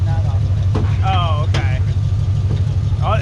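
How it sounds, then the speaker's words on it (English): A lowrider's hydraulic pump motor with a stripped pump head drones steadily with a low electric hum, loud and close, while people talk over it at a car show. "It's either that or else the pump motor's slipping because you can hear the electric going."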